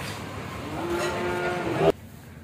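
A single drawn-out moo from Indian Sahiwal cattle at Sagar dairy farm, fairly close and steady for about a second, ending abruptly, with no talk.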